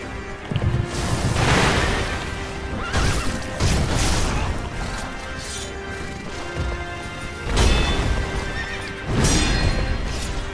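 In the Sekiro: Shadows Die Twice game, a horse repeatedly neighs and whinnies loudly while hooves clatter and heavy impacts crash in bursts, with no talking over it.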